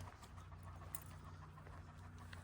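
Kangal dogs on a farm in Sivas pant quietly in a soft, continuous rhythm over a low background hum, faint and close, with no voices.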